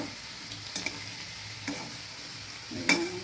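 Chhana kofta frying in oil, a faint steady sizzle with a few soft scrapes and clinks of a spatula turning the pieces.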